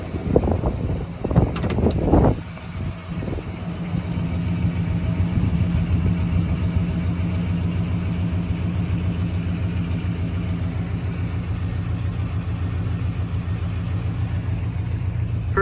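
A 1972 Chevrolet Monte Carlo with a 350 V8 cold-starts after a few sharp cranking bursts, then settles into a steady, loud, rumbling idle heard up close with some wind noise.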